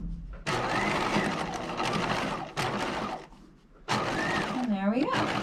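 A sewing machine stitches a seam in short loud bursts, running steadily, pausing briefly, then starting again, close by, with a stretch of quiet between runs.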